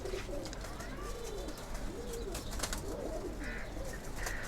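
A female pigeon coos repeatedly nearby, a series of low rolling warbles over steady background hum, with a couple of brief higher chirps near the end.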